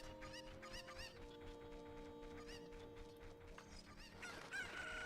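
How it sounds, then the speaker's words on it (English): A chicken in the video game Ocarina of Time clucks repeatedly in short, choppy calls over sustained game music, fairly quiet and with no talking. "Then we get this chicken."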